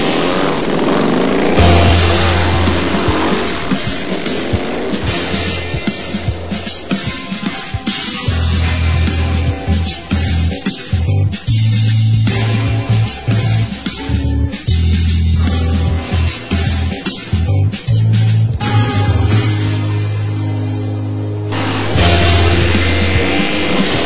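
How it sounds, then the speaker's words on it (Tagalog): A motorcycle ridden fast, its engine droning loud and steady close up with rising and falling revs and wind rush throughout, no one speaking. "kaya padasigon kong pagdalagan sa motor"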